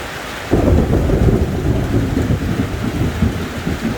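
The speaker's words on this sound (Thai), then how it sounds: "เดี๋ยวรอให้ฝนมันซาซารอให้ฟ้ามันหยุดหยุดก่อน" Heavy rain pours down during a thunderstorm, a loud, dense roar of falling water, with a deep rumble of thunder starting suddenly and rolling on beneath it.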